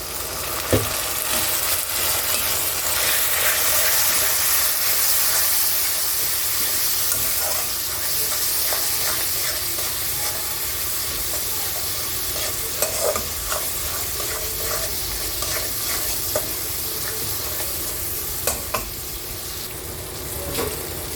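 Ground coriander, turmeric and chili powder fry with a splash of water in a pan for chicken curry, giving a steady loud sizzle and hiss with scattered scraping stirs throughout.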